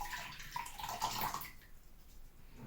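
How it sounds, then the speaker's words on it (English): Water poured into a bowl while making homemade lemonade in a kitchen, a bright splashing pour for about a second and a half that then settles into a quieter trickle. "So first you have to dump the water into your bowl."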